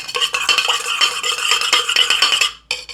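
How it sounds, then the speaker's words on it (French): A spoon stirring honey into rum in a glass, rapid close clinking and scraping strokes that continue steadily, then a brief pause and a final clink. "Et vous venez mélanger votre miel dans votre rhum."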